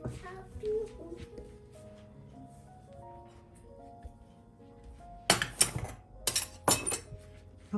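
A cooking pot being handled in a home kitchen while eggplant is prepared, sharp metallic clanks and knocks clustered near the end, with quiet background noise and people talking before and between them.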